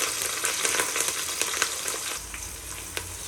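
Onions, green chillies and curry leaves frying in hot oil for kichidi give a steady, loud sizzle with crackling pops throughout and no voices.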